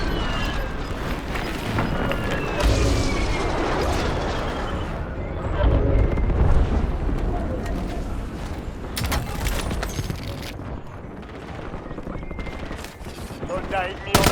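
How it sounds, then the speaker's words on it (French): Video game airstrike explosions mixed with gunfire, a dense loud barrage of booms and rattling shots over several seconds with sharp cracks toward the end, under faint talk. "Frappe imminente. Largage tactique allié imminent."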